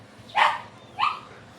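A pet dog gives two short barks about half a second apart, fairly faint and close, over a quiet room.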